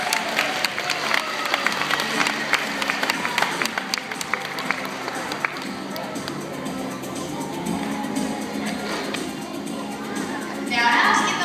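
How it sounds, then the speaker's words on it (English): An audience applauding at a seal show, scattered claps and crowd noise running throughout, with children's voices mixed in and a brief swell near the end. "Let's give them a big round of applause."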